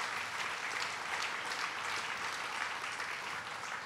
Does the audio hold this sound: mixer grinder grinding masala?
no